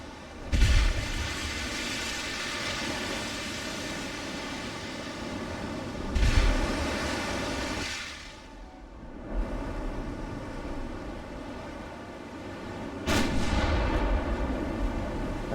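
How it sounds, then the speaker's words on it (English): Naval gunfire from enemy warships in Ultimate Admiral: Dreadnoughts, set in the 1890s era: three heavy, booming salvos roughly six seconds apart, each a deep blast followed by a long rumbling decay. "Oh, they're shooting at us again."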